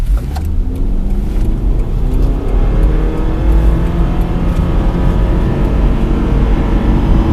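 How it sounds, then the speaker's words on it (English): A 2014 Subaru Legacy 2.5i's engine roars loudly and steadily at full throttle in sport mode, its pitch climbing as it accelerates hard to 100, with road and wind noise and no one talking. "when there's a good gap in sport mode, I'm going to floor it"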